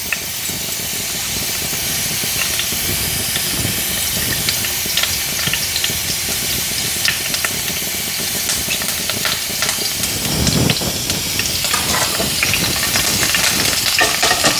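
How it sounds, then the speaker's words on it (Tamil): Three green chilies frying in hot oil in a pan while preparing Hyderabadi pulav, giving a steady close sizzle and hiss throughout, with a brief louder burst of spattering near the end. "ஓகே இப்போ ஃபஸ்ட்டு ஆயில் ஒழிச்சிட்டு 3 பச்சை மிளகு இது போல் இடணும்."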